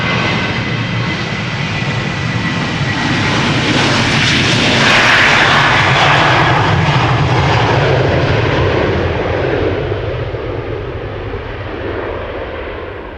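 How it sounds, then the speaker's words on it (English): A KLM passenger jet in the older standard livery departs Amsterdam Schiphol, a loud, close jet roar that swells to a peak midway and then slowly fades as it climbs away. "this is a KLM with the older standard livery"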